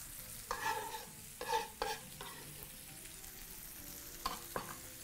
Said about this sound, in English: fry your mixture, stirring continuously, making sure to allow your tomatoes to break down evenly.